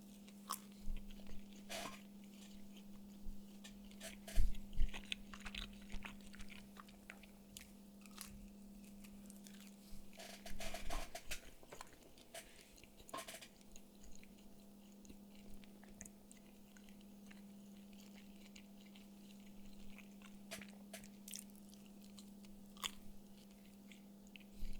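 Close, quiet chewing and crunching of a Domino's pizza slice, irregular soft bites and mastication over a steady low hum, with no talking.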